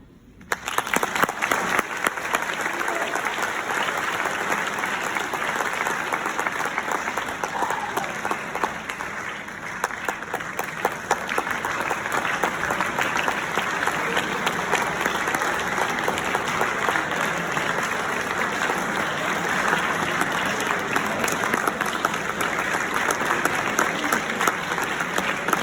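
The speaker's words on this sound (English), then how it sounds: "Let's have one more round of applause for all the inductees." Sustained applause from an audience at a Brecksville Hall of Achievement induction ceremony in a hall, dense steady clapping lasting the whole stretch with a brief swell near the middle.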